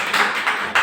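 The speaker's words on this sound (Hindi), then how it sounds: "ताली ठोकरे।" Audience clapping at a spoken event in a hall, heard in three short bursts of applause, moderately loud, with no talk over it.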